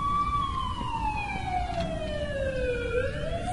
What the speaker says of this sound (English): what's up with the ambulance?